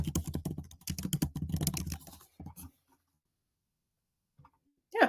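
Fast, close typing of titles on a computer keyboard, a dense run of key clicks lasting about two and a half seconds, then silence and a final short burst.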